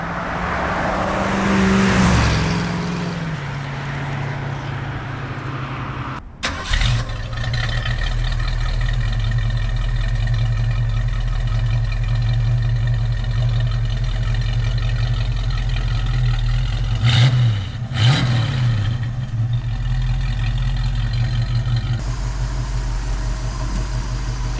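Engine of a 1966 Ford Mustang Fastback pulling steadily at around 60 mph, a sustained loud drone interrupted by a couple of brief dips and surges as the transmission shifts, with no talking.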